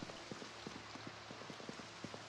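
Rain falling in the Project Zomboid video game, a soft, faint patter of scattered drops tapping a surface at an irregular pace.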